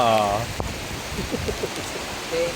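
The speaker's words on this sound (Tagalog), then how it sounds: "Kasi inabutan kami ng ulan." Rain falls outdoors on a trip in Palawan, a soft steady patter of drops with a brief voice at the start and scattered nearer drips.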